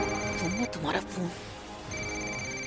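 A phone rings with a steady electronic tone, pausing briefly and resuming, while a person speaks over it.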